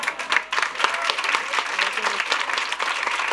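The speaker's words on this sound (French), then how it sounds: "On peut encore applaudir la catégorie les lauréats, les finalistes." Audience applause at an inclusion challenge award ceremony, dense steady clapping from a crowd filling the whole stretch, fairly close and lively, with a voice faintly audible underneath.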